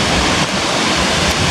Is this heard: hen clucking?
no